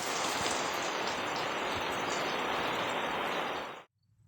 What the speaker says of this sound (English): It is starting to rain